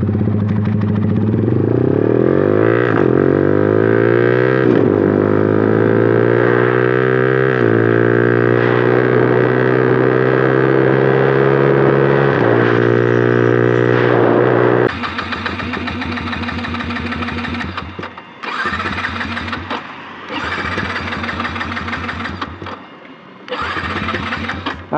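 A Yamaha R15 motorcycle with an SC Project full-system exhaust revs loudly and close, holding a deep droning note that climbs and falls. Sharp, choppy blips and cuts follow near the end.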